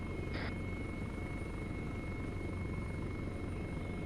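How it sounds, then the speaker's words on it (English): A helicopter flies steadily in the distance during an airsoft or military simulation operation, a continuous dull rotor drone with no talk. "Mission lead, Raven, recommend you start shooting the helicopter."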